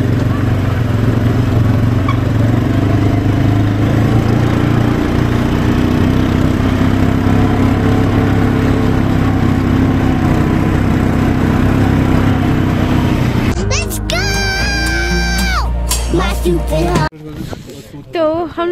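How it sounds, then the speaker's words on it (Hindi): An ATV engine runs steadily in the snow at Gulmarg, Kashmir, a loud continuous drone with a low idling hum that holds for most of the stretch before cutting out into sharper, louder sounds at the end; speech is heard during the sharper sounds at the end. "तो हम लोग एटीवी राइड कर रहे थे"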